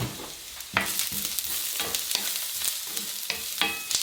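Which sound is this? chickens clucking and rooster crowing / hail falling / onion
onion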